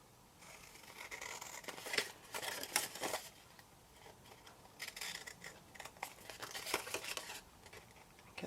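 Long scissors slicing through patterned craft paper, a series of close, crisp snips and crinkling paper rustles at low volume.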